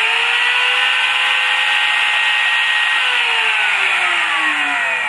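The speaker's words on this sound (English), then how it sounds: "you could hear the spindle fire up and do its thing" A GRBL-controlled CNC spindle motor spins up after an M03 command, a loud, steady high-pitched whine with a rising tone that holds across the whole stretch, alone with no talk.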